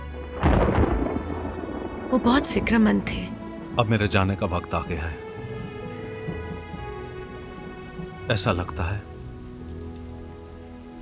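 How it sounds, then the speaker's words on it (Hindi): Rain falls with rolling thunder on a stormy night, a low continuous rumble beneath someone speaking in Hindi. "और बादल गरजने की आवाज आ रही थी।"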